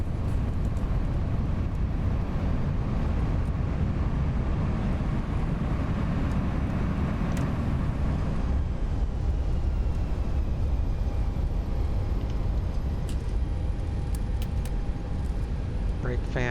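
An A320 on landing in the X-Plane 11 flight simulator roars with thrust reversers, a loud, sustained broadband rumble that eases slightly toward the end, while a voice speaks over it.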